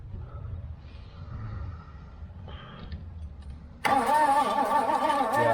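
A 1973 Pontiac LeMans Luxury that sat unused for 25 years cranks with a steady, low, rhythmic churn that grows louder. Then a brighter, harsher engine sound abruptly takes over near the end.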